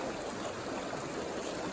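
Creek water rushes steadily through Manitou Springs, Colorado, a continuous broadband stream flow that stays close and loud, with no voices over it.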